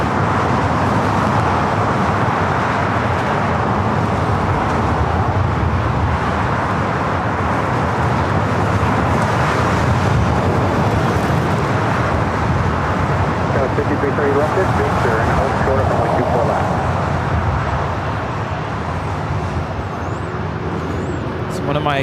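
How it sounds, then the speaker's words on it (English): Philippine Airlines Boeing 777-300ER airliner on approach to runway 24 left at LAX, a steady loud broadband jet roar that holds throughout, with a live commentator talking over it. "Philippine Airlines Flight 113, the 777-300ER, heading up here to 24 left"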